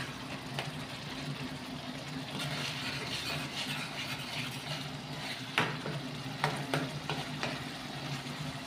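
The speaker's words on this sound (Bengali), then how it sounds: "ভালো করে আদা রসুনটা একটু ভেজে নেবো।" Ginger garlic paste fries gently in a pan, a soft and fairly quiet continuous sizzle with occasional small crackles and stirring clicks toward the end.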